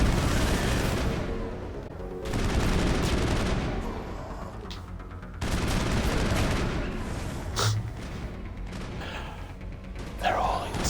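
Dense, sustained gunfire from a firefight in the video game Mass Effect, loud and continuous, with rapid bursts that briefly drop out and then resume, plus a few sharper impacts near the end.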